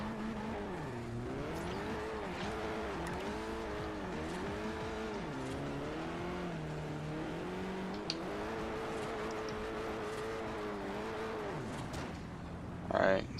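Engine of a car drifting in the Forza Horizon racing game, held in second gear, wavering in pitch as it slides steadily throughout, with a brief louder burst near the end and faint talk underneath.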